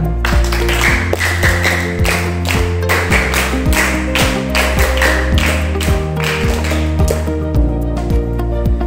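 Audience clapping for the first-place winner of a speech contest at a gathering: a run of fairly close hand claps, loosely rhythmic and unsteady, over a steady droning tone.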